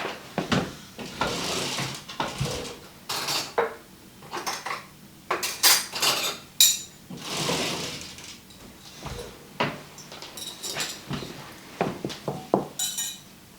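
Spoon and dishes handled in a kitchen while mixing a pasta salad dressing: repeated clinks, scrapes and knocks of cutlery against bowls, sometimes in quick clusters and sometimes spaced apart, fairly close with no talk.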